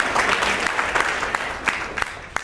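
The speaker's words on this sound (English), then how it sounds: "Let's give her another round of applause." An audience applauds for a singer at a live speakout event, steady clapping with sharper individual claps throughout, close and fairly loud.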